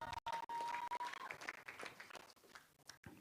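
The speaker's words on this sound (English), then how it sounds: "Please clap." Crowd applause at an outdoor Kenya Kwanza political rally in Kamukunji, Nairobi, uneven clapping and noise at low level with brief gaps and dropouts, distant and somewhat muffled.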